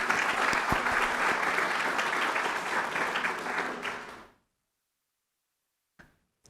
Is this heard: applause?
yes